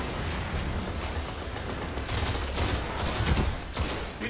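Rapid bursts of gunfire crackle continuously, with heavier explosive-round thumps mixed in toward the end, a dense video-game battle din.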